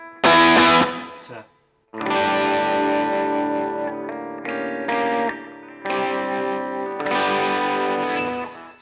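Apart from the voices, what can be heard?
Epiphone Les Paul Custom Pro electric guitar played softly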